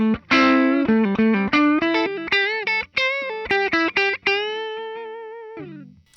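A 2024 EVH SA-126 electric guitar played through its dark-toned neck pickup, a quick run of loud, sustained distorted notes ending on a long held note that fades, no talk.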